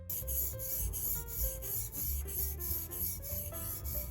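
A round leather skiving knife is sharpened on a whetstone, the blade rubbing back and forth in an even, rapid rhythm of close, scraping strokes with no talk.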